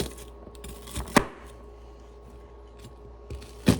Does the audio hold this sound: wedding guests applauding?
no